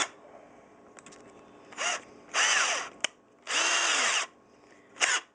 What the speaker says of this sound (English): Take your regular drill